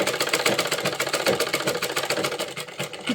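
A sewing machine stitches the fall onto a saree with fast, regular mechanical clatter, close and continuous, its pace easing slightly near the end.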